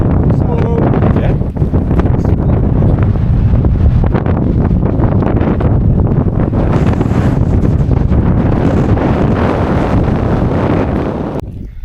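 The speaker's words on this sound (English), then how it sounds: "Bit windy." Strong wind buffeting the microphone at a hilltop wild camping spot, a loud continuous roar and rumble lasting throughout, with someone speaking briefly under it.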